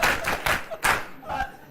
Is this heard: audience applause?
yes